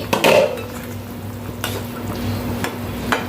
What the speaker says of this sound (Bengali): তো এবার ঢাকনাটা খুলে দেখে নিই।